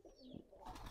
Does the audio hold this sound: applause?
no